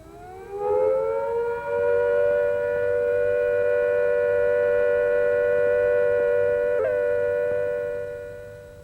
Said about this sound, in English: When the immediate danger of air attack or fallout has passed, the siren will sound a steady note like this.